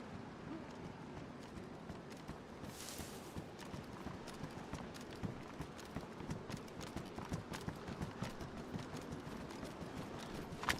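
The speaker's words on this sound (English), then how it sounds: "It's footsteps. Somebody's here." Rapid, steady footsteps thud across the ground in the DayZ survival game, a continuous running patter over faint ambient noise and moderately close, with a brief rustle early on.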